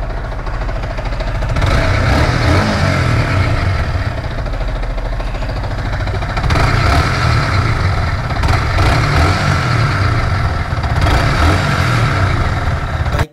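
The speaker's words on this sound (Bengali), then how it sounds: "বাইকের সাউন্ড তো আপনারা শুনলেন" A secondhand Yamaha R15 motorcycle engine revs loudly and steadily, a rough running note with swells in throttle and no talk over it.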